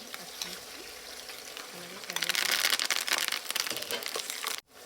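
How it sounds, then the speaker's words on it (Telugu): Spices, dried chillies and curry leaves frying in hot oil for a village-style brinjal chutney, a close crackling sizzle that grows louder midway as ingredients are added, with faint stirring. "ఇప్పుడు ముందుగా ఆయిల్లో పోపులు వేసేసుకుందాము"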